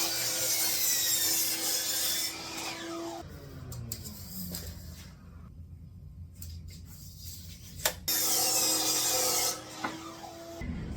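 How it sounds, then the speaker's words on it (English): Wooden boards for a turkey roost are cut with a power saw, a loud whining cut that stops for a quieter stretch of shuffling and knocks, then a second sustained cut. "So let's get these boards cut and get them screwed onto the bottom frame."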